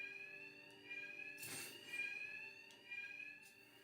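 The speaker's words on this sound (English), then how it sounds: "attacks will be covered by the noise of the alarm." A continuous electronic alarm rings in the video game Batman Arkham Knight, a sustained shrill tone cut by a brief burst of noisy impact partway through, with faint clicks, fairly quiet.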